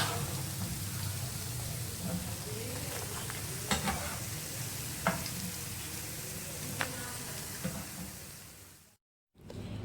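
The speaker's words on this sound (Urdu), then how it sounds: "اسی طرح سے یہ اب فرائی ہو رہے ہیں" Mini sweet pooris fry in hot oil with a steady, soft sizzle throughout and a few faint clicks, fairly quiet, with a brief dropout near the end.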